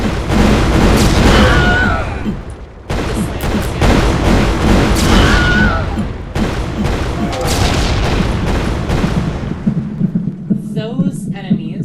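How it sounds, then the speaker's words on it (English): A massive video-game slam explosion, a deep booming blast with rumbling debris that repeats in heavy, loud bursts for several seconds before fading into a low hum, with a voice talking over it. "This performs a very, very large explosion with sounds and what have you, and knocks physics objects away."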